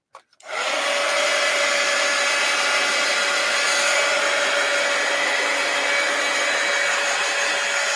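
A hair dryer blows steadily on a piece of stamped mixed-media artwork, switching on abruptly and then running loud and constant as a close whirring roar with a faint tonal hum.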